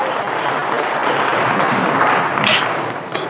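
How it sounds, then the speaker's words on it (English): Steady applause from a congregation at a Saturday vigil Mass in church, a dense, even wash of clapping that holds for a few seconds without a break. "So we give a round of applause."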